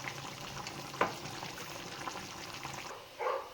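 Wheat dosa batter fries on a hot pan in a soft, steady sizzle, faint and close, with a couple of brief scraping or pouring touches and no talk.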